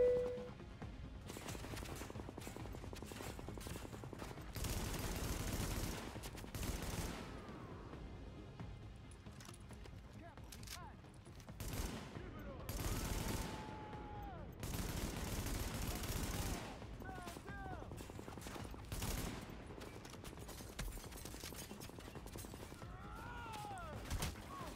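Gunfire in Tom Clancy's The Division, heard as repeated bursts and volleys of automatic fire across a cover firefight. Between and under the shooting there are scattered game sounds and brief voice.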